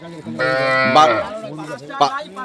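A cow moos loudly and close by from inside a truck, one long drawn-out low followed by a shorter second call.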